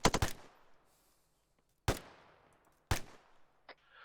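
Gunfire during a military platoon convoy training exercise, an opening rapid burst of several sharp shots followed by two single loud reports about a second apart, each ringing out with a long echoing tail outdoors.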